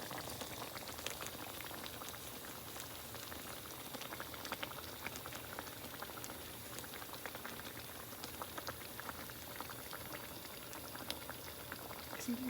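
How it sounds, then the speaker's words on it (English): Spaghetti sauce bubbling in a pot on a stove, with steady soft popping and fizzing that runs the whole way through, faint and close, with no talking. "The spaghetti is popping up. The spaghetti sauce."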